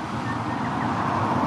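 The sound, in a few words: road traffic passing a roadside rest area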